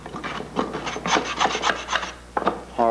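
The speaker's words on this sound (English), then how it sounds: "The epoxy in this area isn't fully cured, so I can easily scrape it off either with a chisel" Chisel scraping soft, not fully cured epoxy off a jig table, a series of close, loud rasping strokes in uneven bursts with short pauses between them.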